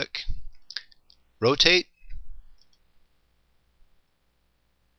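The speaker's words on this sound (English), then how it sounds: "If I right click again, left click places." Sharp computer mouse clicks in a software design program, a couple of quick clicks among brief spoken words, close and fairly loud.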